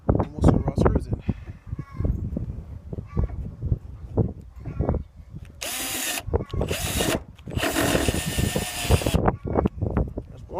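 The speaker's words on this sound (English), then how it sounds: "and we'll screw our screws in." A power drill drives screws into an RV rock guard, giving several short whirring bursts in close succession. Quieter handling clatter and knocks come before the bursts.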